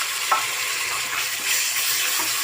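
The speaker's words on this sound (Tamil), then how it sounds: "அடுத்தது நம்ம தக்காளி சேர்த்துடலாம்" Tomatoes go into a hot frying pan of oil, giving a steady, close sizzle with a brief stirring scrape near the start, constant and moderately loud with no talk.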